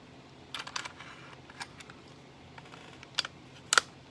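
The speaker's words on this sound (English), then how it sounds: "So now we're going to chamber it." A dummy cartridge is chambered in a bolt-action rifle, giving a few faint metallic clicks and light rattles, with a sharp clack of the bolt near the end, close and quiet.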